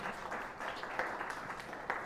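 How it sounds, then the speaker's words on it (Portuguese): A church congregation applauding after a sermon on deacons, steady massed clapping filling the room at moderate volume, with occasional louder claps and no voices over it. "Vamos aplaudir em nome do Senhor Jesus."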